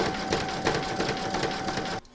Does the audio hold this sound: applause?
no